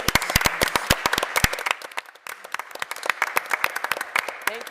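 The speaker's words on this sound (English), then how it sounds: "I think we should all give them a big round of applause" An audience at a school committee meeting applauds the cheerleaders: a burst of sharp, close claps in the first second and a half, then thinner, scattered clapping.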